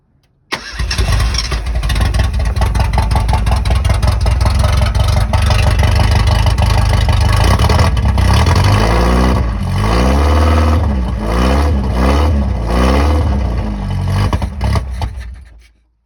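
A 1983 Ford EXP engine, after almost 30 years off the road, cranks and catches, then runs steadily and loud with repeated revving surges toward the end. No talk is heard.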